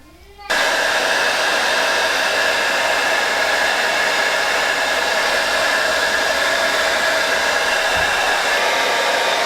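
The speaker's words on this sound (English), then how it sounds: "I am using a blow dryer to set this product in my hair" A hair dryer switches on abruptly and blows at a loud, steady roar close by, drying natural hair coated with L'Oreal Liquid Hair Chalk in bronze. The airflow stays constant and unbroken to the end, with no talking.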